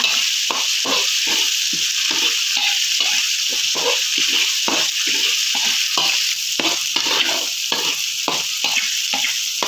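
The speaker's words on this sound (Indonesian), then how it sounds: "Lalu kita tumis-tumis kembali seperti ini ya teman-teman ya, sampai aromanya keluar ya." Blood clams with fried coconut being stir-fried in a pan, a loud continuous sizzle with rhythmic scraping and stirring strokes throughout, close up.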